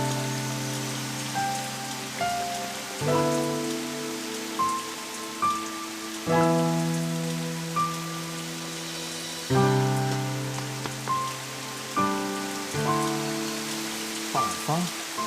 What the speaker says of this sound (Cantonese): 翻嚟咁大雨嘅